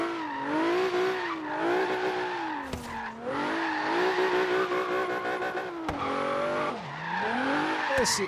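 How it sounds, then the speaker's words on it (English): Game car drifting in Forza, the rear end stepping out as it slides around corners, with a loud continuous engine whine rising and falling through revs and brief tire squeals, close and steady throughout. "to do a drift is just make the back end step out on you and just slide your way around"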